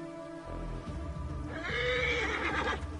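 A horse in the video game Assassin's Creed Origins gives a loud, close whinny over snorting and the thud of hooves, the neigh rising and fading within a few seconds.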